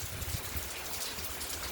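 Steady rain patters down close by in a soft, continuous hiss of drops striking the ground, with no voices over it.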